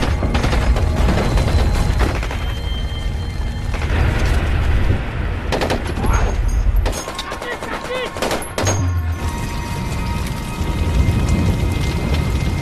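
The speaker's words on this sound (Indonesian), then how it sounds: "baku tembak terus berlanjut, hingga semua musuh yang ada berhasil dikalahkan" Machine gun fire in a war film, dense sustained bursts of automatic gunfire with booms and mechanical clatter, loud and continuous, mixed with other battle noise.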